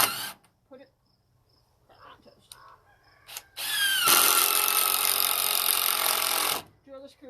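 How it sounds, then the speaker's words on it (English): Power drill driving a screw into a 2x6 board, a loud continuous whirring burst lasting a few seconds, preceded by brief scattered clicks and handling sounds and trailed by faint voice fragments. "drill the screw back in."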